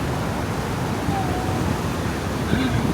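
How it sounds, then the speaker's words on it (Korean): The Salto San Martín waterfall at Iguazú Falls in Argentina gives a continuous, dense roar of falling water, with faint voices nearby. "네, 산마르틴 폭포."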